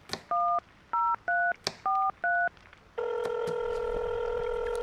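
A mobile phone dials a number, six quick two-tone keypad beeps in an uneven rhythm, then a steady ringback tone that holds to the end, close and clear, with no talk.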